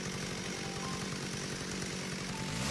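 A chainsaw runs continuously in the Hello Charlotte RPG Maker adventure game, a loud, steady buzzing engine drone with no pauses and no voices.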